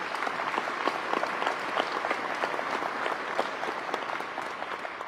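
Audience at a press conference with the Arkansas governor and military officials applauds National Guardsmen, a steady, moderately distant round of clapping with scattered sharper claps throughout.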